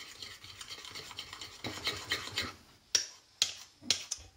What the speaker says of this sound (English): Just mix that all together.